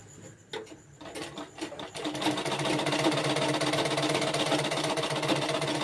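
A sewing machine stitches fabric after a few halting starts, then settles into a fast, steady mechanical whir that runs loud and close to the end.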